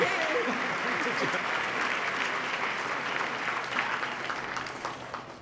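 A large audience at the 2014 New York State of the State address applauds steadily, a dense wash of clapping that tapers off slightly near the end, with faint voices mixed in.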